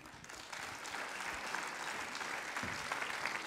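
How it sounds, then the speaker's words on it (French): Audience applause during an honorary president's speech, dense and sustained clapping from a crowd, fairly distant and even in loudness, with no voices on top. "nous lui envoyons un big force avec vos applaudissements"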